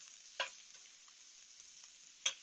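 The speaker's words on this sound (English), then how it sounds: "So normally, I would just keep the shrimp in the pan and continue cooking" Shrimp frying in a hot pan, a faint steady sizzle with two brief sharper spatters or scrapes near the start and end.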